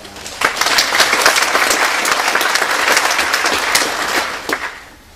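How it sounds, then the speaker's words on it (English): A convocation audience on Founders Day breaks into a dense, loud round of applause that swells quickly, holds steady for several seconds, then tapers off near the end. "Let's give a round of applause for Sarah"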